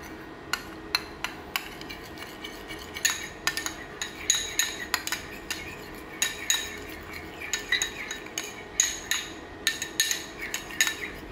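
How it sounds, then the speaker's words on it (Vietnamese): Metal utensil repeatedly clinks and scrapes against a bowl while stirring a sauce seasoned with chili sauce, giving an irregular series of sharp, bright taps close by, with no talking. "Khuấy đều lên."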